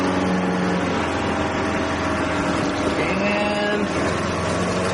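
A 1975 Mercedes-Benz 300D non-turbo diesel heard from inside the cabin as it accelerates hard uphill, a constant dense engine roar with a faint belt squeal, steady and loud throughout, with a brief spoken word.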